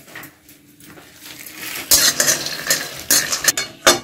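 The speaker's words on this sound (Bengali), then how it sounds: "আগে আমি বাদামগুলো একটু শুকনো খোলায় একেবারে ভেজে নেব" Peanuts dry-roasting in a hot pan with no oil for a masala dosa, giving scraping, rattling stirs and clinks of a utensil against the pan, quiet at first and growing louder and busier in the second half, with no talking.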